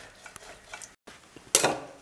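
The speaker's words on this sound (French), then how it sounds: "je laisse réduire de nouveau en frottant bien le fond de la casserole pour décoller les sucs" A utensil scrapes and rasps against the bottom of a saucepan in short strokes while a jus reduces, with a brief gap and then a louder scraping sweep near the end.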